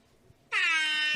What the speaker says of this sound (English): That just gets a lonely air horn.